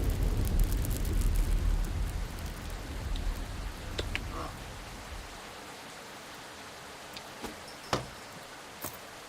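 Rain falls outside during a storm, starting as a dense, rumbling wash that fades to a quieter patter, with a few sharp drips or taps near the end.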